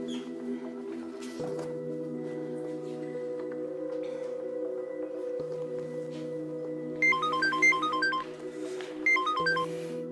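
A steady low hum fills the background, then a bright melodic phone ringtone chimes in twice, briefly and fairly faintly.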